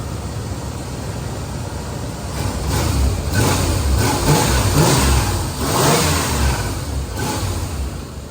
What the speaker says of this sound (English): He's gonna rev it up, I think.